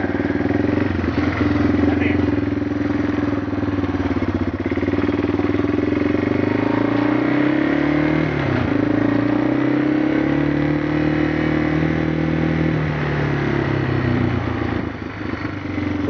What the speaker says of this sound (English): We're going to go for a four-wheeler ride.